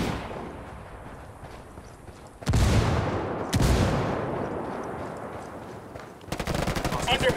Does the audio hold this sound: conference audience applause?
no